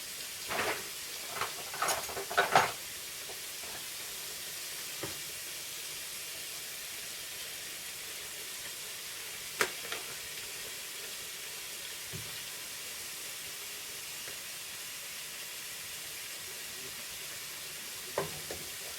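Vegetarian mince and vegetables fry in grease in a pan, a steady soft sizzle with occasional stirring scrapes and clinks, no talking.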